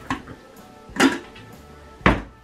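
Clanks of a metal lid and pot as a pot of lamb shanks is covered in a kitchen: three sharp, close knocks spaced about a second apart, with no talk.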